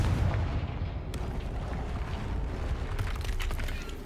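Spell explosions from Bombarda and Confringo in the video game Hogwarts Legacy: a dense, rumbling barrage of booming blasts with sharp cracks near the one-second mark and again around three seconds, loud and continuous with no talking.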